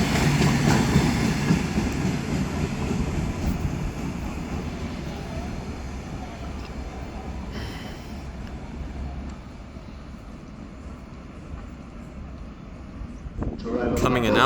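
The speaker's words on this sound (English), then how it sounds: "Coming in now is a pair of Class 387s from London Paddington." A pair of Class 387 electric trains from London Paddington arrives at Cardiff Central station. The train rumbles in loudly with a steady clatter that eases toward the middle, then a louder burst of sound comes near the end.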